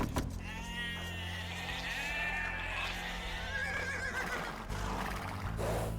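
Sheep in the Age of Empires II video game bleat in several overlapping, wavering cries over a steady low game hum, with a short gap near the end before another bleat rises.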